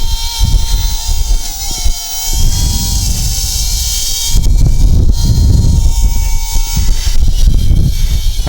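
A WLTOYS Q242-G micro quadcopter flies outdoors in a 5 to 10 mph wind, its loud, steady high-pitched rotor whine continuous throughout, with gusty low wind rumble underneath.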